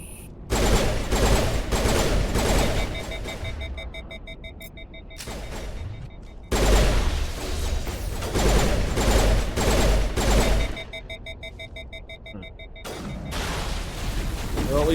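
Sustained rapid gunfire from a sci-fi shooter game, Mass Effect, dense automatic bursts in two long stretches with brief gaps, loud and close, with electronic tonal beeps layered over the shots.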